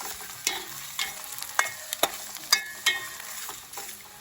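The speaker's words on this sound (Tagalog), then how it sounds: "inuna ko yung luya para mas malasa. And then, bawang. And of course, and then stir it" Salmon head frying with ginger and garlic as it is stirred in a pan, giving a soft steady sizzle broken by repeated sharp scraping clinks of the utensil, close by and without voices.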